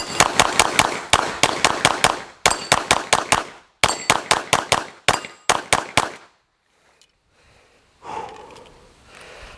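Rapid strings of sharp pistol shots from a Glock 17 or Tanfoglio fired at USPSA targets, loud and close in quick bursts of four or five, followed by near silence and a faint breath.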